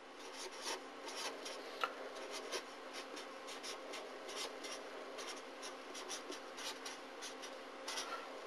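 A pen writes a polynomial on paper in a quiet room, with a continuous faint scratching and rubbing and short strokes in quick irregular bursts.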